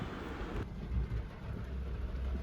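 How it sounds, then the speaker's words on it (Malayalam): A dense, steady wash of rain roars throughout, with a low rumble underneath; no voices. "പോണ വഴിക്കൊക്കെ നല്ല മഴയായിരുന്നു ഒരു രക്ഷയില്ലാത്ത മഴയായിരുന്നു"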